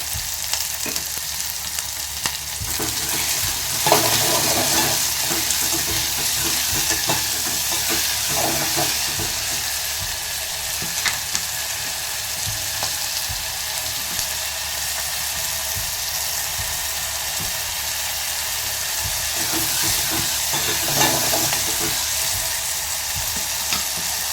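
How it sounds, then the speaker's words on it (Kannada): Sliced onions with salt fry in a hot pan, giving a steady, close sizzle with a few scraping stirs throughout, no voices. "ಉಳ್ಳಾಗಡ್ಡೆಗೆ ಬೇಗ ಫ್ರೈ ಆಗಲಿ ಅಂತ ಉಪ್ಪು ಹಾಕ್ತೀನಿ"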